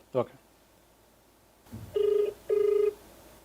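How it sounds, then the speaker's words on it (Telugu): Two steady electronic ringback tones, each lasting about a third of a second, follow a brief burst of speech at the start. "రింగ్ అవుతుంది సార్"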